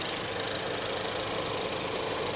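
A Mercedes-Benz C230 Kompressor's engine idles smoothly and quietly, a steady, even hum with a light, continuous hiss and no changes in pitch.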